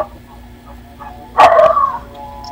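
A dog lets out a single short bark about midway, fairly close, loud against a quiet background hum, with a faint clipped yelp after it.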